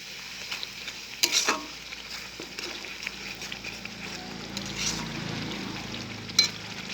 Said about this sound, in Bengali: 1 চামচ হলুদ দিয়ে দিলাম, 1 চামচ ধনের গুঁড়ো, 1 চামচ জিরের গুঁড়ো দিয়ে ভালো করে কষে নেড়ে নিতে হবে।